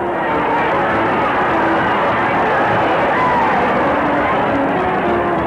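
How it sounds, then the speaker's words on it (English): A large racetrack crowd at the Kentucky Derby roars steadily as the horses parade past the grandstand, a dense, continuous wash of cheering and babble at constant loudness from start to finish. "Let's listen for a moment to the roar of this crowd as Roman leads the parade past the stand"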